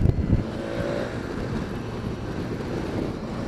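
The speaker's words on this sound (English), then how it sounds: "the quick shifter to go down the box is just bloody lovely" A BMW motorcycle with a quick shifter downshifting on the road, a steady roar of engine and wind with a few low thumps right at the start.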